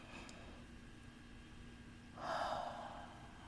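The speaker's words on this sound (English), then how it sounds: "As you're still breathing in your nose." One audible breath drawn in through the nose during a stretching routine, a soft quiet sniff-like inhale lasting about a second after a near-silent stretch.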